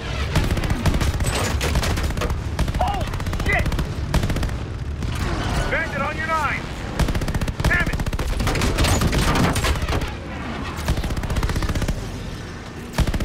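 Dense, loud video game gunfire from Call of Duty: Vanguard in a Midway battle, with rapid machine-gun bursts and volleys rattling almost nonstop, joined by occasional booms.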